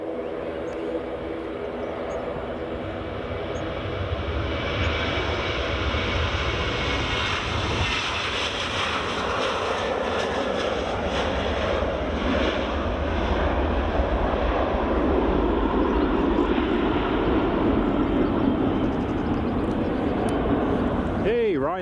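Airliner departing Edinburgh Airport: a steady, broad jet engine roar that builds gradually and holds for over twenty seconds at moderate distance, with a person talking over it.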